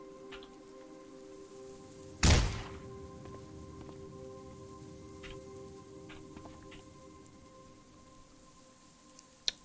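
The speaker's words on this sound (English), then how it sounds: "Oops, I fired the gun." A single sharp gunshot in the zombie survival game Cataclysm DDA cracks out loud near the start, followed by a quiet steady hum and a few faint clicks.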